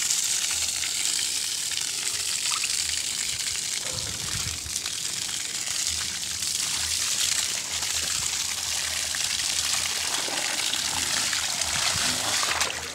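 Drained swimming pool water gushing and splashing onto a street, a continuous hissing rush with spattering texture, steady and close throughout.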